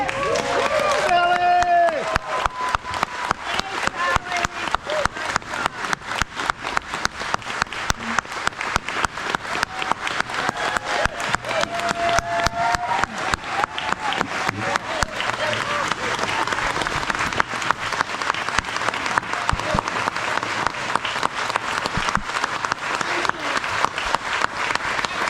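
A crowd at a Grand Design RV rally in Washington applauds, with dense and steady clapping that holds for the whole stretch. A few voices rise briefly near the start.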